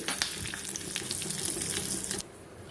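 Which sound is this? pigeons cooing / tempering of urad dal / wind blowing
tempering of urad dal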